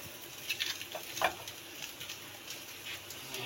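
A paratha cooks in a hot pan, giving a soft, steady sizzle with faint crackles and scrapes that peak briefly early on, fairly quiet and close, with no voice over it.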